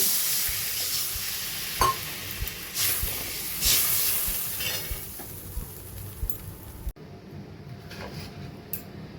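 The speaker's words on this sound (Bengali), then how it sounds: "এবার দিয়ে দেবো আমি পরিমাণ মতো জল" Water is poured into fried ground spices in a pan for a rohu fish curry, setting off a loud, steady hiss and sizzle with occasional stirring knocks, close and without talk.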